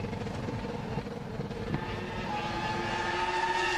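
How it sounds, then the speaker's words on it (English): A Formula 1 car with a software problem sits in the pit lane at the Australian Grand Prix, its engine revving in a loud, sustained, rising whine with no voices. "you can hear him revving"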